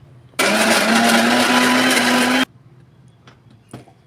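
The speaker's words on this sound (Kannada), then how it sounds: "ಒಂದು ಎರಡು ಮೂರು ಸುತ್ತ ಗ್ರೈಂಡ್ ಮಾಡ್ಕೊಂಡು ಬರೋಣ್ರಿ" A mixer grinder runs on fried thorny brinjal in one loud, steady burst of about two seconds, with a rising motor whine, then cuts off to quiet room noise with a couple of faint clicks.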